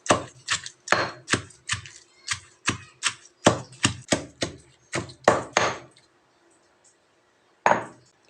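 Shrimp shells and heads are pounded in a kitchen, a series of sharp, close thuds in an uneven rhythm for about six seconds, then a pause and one final strike.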